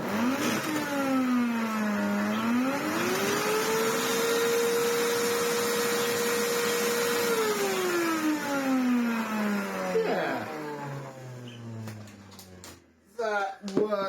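A Miele U1 upright vacuum cleaner with a clogged motor fan spins up to a steady whine, holds it, then winds down as it is switched off, followed by a few clicks and handling noises.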